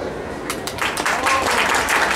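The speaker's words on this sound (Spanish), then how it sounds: "Venga el aplauso esta noche a Osman." Audience applause for Osman at an evening recognition ceremony in Patzún, scattered claps at first that build into fuller, steady clapping from a nearby crowd.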